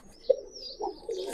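Giribaz pigeons coo in short, soft, throaty bursts, three or four low calls spaced irregularly at close range with faint chirps in the background.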